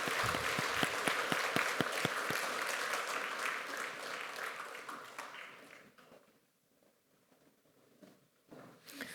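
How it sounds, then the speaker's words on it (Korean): A church congregation at a Sunday service breaks into loud, dense applause that carries on for several seconds and then fades out, with a brief scatter of claps returning at the end. "우리 한 번 더 격려의 박수 보내겠습니다"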